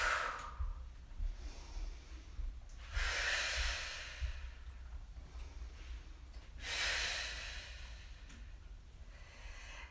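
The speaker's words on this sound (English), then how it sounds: "so you can inhale here" Heavy breaths drawn in and out during a bodyweight exercise, three broad airy whooshes a few seconds apart over a low steady room rumble, close and moderately loud with no talking.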